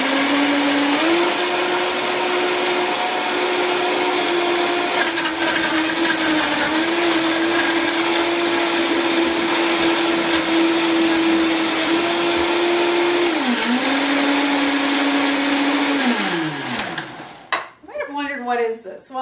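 A Vitamix blender runs steadily on a green smoothie of frozen fruit, strawberries, blueberries and greens, holding a loud, even motor whine with small pitch dips. The whine then winds down and stops, followed by brief clatter as the jar settles.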